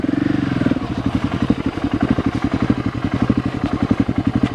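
A heavy dirt bike's engine thumps in a steady, rapid, loud rhythm while it is ridden, close to the rider, with little talk over it.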